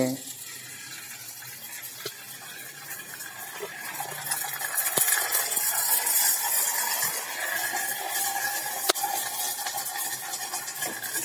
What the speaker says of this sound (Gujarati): તો ચાલો થોડીક ફરફરને આપણે તળીને તૈયાર કરી લઈએ